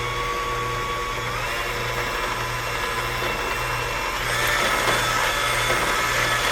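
An electric mixer whirs steadily as it blends honey and coconut oil for cupcake batter, a continuous motor hum with a pulsing low tone that grows slightly louder partway through.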